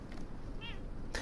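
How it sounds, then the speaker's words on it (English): A cat meows once in the Mass Effect video game, a short rising-and-falling call heard faintly over a steady low background hum. "good news, there's a cat here"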